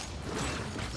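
Weapon reload in the Warzone video game, a quick burst of mechanical clicks and ratcheting metal parts over dense game noise, loud and close, lasting about a second.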